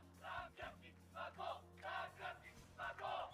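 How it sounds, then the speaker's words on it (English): A full crowd cheering at an anime college volleyball match comes in rhythmic chanted bursts, fairly quiet and distant, swelling and dropping several times in a steady pattern over a low hum. "They got a full crowd there cheering."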